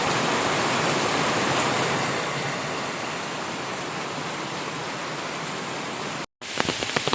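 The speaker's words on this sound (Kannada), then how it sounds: "ಮಳೆ ಬಂದು ಹೇಗೆ ನೀರು ಬೀಳ್ತಾ ಇದೆ ಅಂತ ಹೇಳಿ ನಮ್ಮ ತೋಟದ ಅಂಚಿಗೆ." A rain-fed waterfall at the edge of a plantation roars in a dense, steady wash of falling water, loud and continuous, with a brief cut near the end followed by a few faint knocks.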